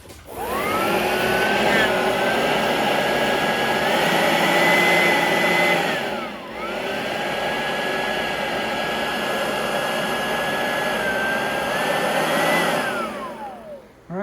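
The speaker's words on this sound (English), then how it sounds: "Now what I'm going to do is plug it in. We'll see if the bag inflates properly." An Oreck XL21 upright vacuum cleaner with a replaced fan chamber runs with a high whining motor drone, dipping briefly midway before spinning back up, then winding down at the end.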